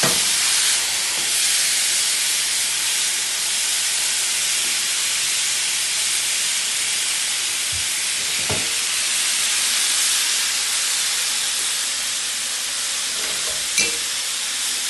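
A pork fried rice mixture sears in a hot, unoiled cast iron pan on the highest heat, giving a steady loud sizzling hiss throughout with a few soft stirring scrapes and no voices.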